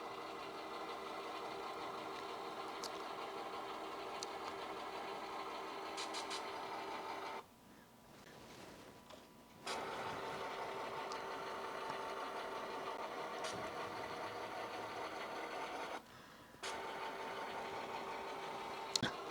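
A model train locomotive runs along the track at speed step 5, a steady close mechanical hum and whir that dips briefly twice.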